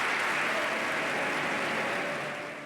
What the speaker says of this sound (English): And he gets 29 or 39 standing ovations.